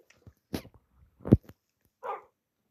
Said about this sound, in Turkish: Küçük köpeğimiz büyümüş mü?